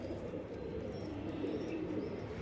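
Several pigeons coo in low, rolling murmurs at a breeding farm, a steady close burble with faint chirps above and no talk.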